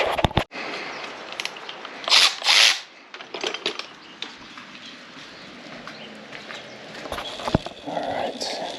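Plastic trim clips being pried out of a Lexus ISF during a supercharger install, a few sharp close snaps and clicks with brief rustling between them and a quieter stretch of handling noise.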